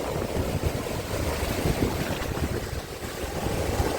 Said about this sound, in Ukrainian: А, хвилі які серйозні